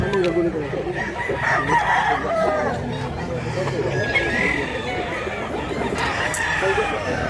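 Many chickens crowd a busy poultry market in Mantalungon, Cebu, and a rooster crows among them. Overlapping clucks and crowing fill a loud, dense din, with people chattering throughout.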